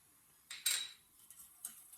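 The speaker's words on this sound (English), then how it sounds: "I'm going to mix all this because I don't want a lumpy sauce" A utensil stirs a cream sauce for bacalhau, seasoned with pepper and salt, in a pan. The sound is faint, with a few brief metallic clinks and scrapes against a quiet background.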